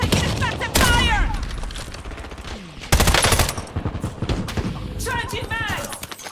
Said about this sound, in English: Grenade! Taking effective fire!